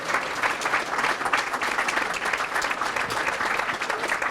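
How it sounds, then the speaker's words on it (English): An evening audience at a chamber of commerce awards night applauds the board of directors with dense, steady clapping that holds at an even level for several seconds without talk. "a big round of applause, please"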